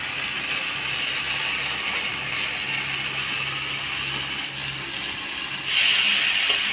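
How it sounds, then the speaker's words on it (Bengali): Mushrooms with potatoes and spices sizzle in a pan while being stirred, a steady close frying hiss with light scraping clicks that swells louder near the end. "মাশরুমগুলো দিয়ে মশলার সাথে ভালো করে নাড়াচাড়া করে নিব।"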